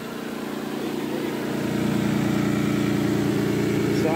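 A cold car engine idles loudly and steadily up close, its low rumble swelling slightly partway through, with no talk over it.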